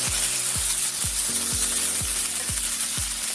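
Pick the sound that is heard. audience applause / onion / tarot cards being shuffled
onion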